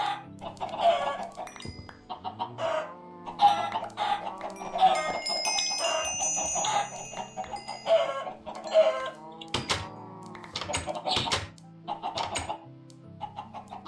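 Several Minecraft chickens cluck in short, repeated bursts close by, with a few soft ding-like game tones mixed in and no talking.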